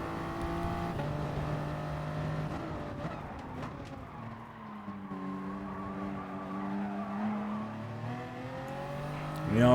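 A Toyota Supra race car in a driving video game, with a steady engine drone that shifts pitch as it changes gears and accelerates through corners, and a faint tire squeal, near and continuous.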